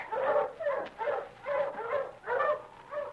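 Husky sled dogs in the Yukon bark and yelp in a steady run of repeated bursts about every half second, close and fairly loud, with no talking.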